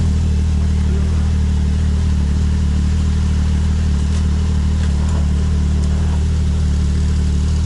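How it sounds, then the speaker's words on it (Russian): A one-litre engine runs steadily and loud throughout, with a strong low drone and slight rises in pitch as it revs, close by and with no talk over it. "Литровый движок."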